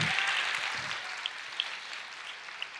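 A church congregation applauds during a worship service, a steady wash of clapping that stays fairly faint and distant throughout, with a few sharper individual claps standing out near the end.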